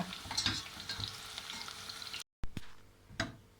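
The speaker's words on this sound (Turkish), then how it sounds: "Evet arkadaşlar soğanla sarımsağı kavurduktan sonra tenceremize alıyoruz." Steady sizzling and crackling of onion and garlic sautéing in a pan, with a brief cut and a couple of utensil scrapes as it's stirred.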